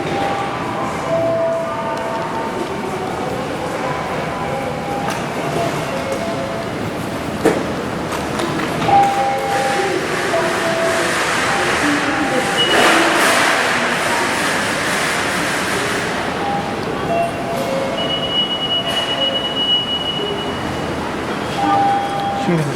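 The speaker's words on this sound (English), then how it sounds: "So this train, Hayabusa, connects Hakodate and Tokyo." Hayabusa Shinkansen train running between Hakodate and Tokyo, a steady loud rumble with a rising rush of passing cars and occasional tonal pings and taps, heard from nearby on a platform.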